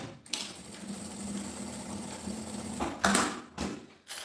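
A sewing machine stitches a gym bag strap, reinforcing it with backstitching: a steady, moderately close motor hum runs throughout, broken by a few sharper bursts toward the end, with no voices.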